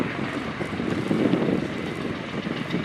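A US Air Force Bell Boeing CV-22B Osprey tiltrotor with twin Rolls-Royce Allison A1107C turboshafts at an airshow gives off a steady, loud, broad roar with wind buffeting the microphone, swelling slightly midway.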